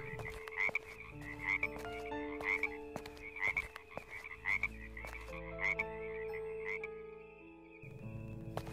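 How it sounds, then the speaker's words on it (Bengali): Frogs croak from flooded rice fields in a repeated, rhythmic chorus of loud calls, layered over a sustained background tone. "জলে ডোবা ধানক্ষেত থেকে ভেসে আসছে ব্যাঙের ডাক।"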